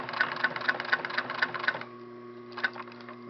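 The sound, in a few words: sewing machine stitching velcro on rear shoulder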